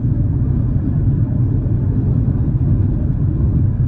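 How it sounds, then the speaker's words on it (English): A 1997 Toyota RAV4 cruises steadily in fifth gear, producing a constant low engine and road rumble that stays even and close from start to finish, with no voices. "I'm in fifth gear right here. It's just cruising along smooth."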